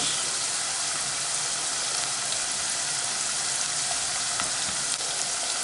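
Minced meat and onion frying in a pan, a loud, steady sizzle close up that runs without a break.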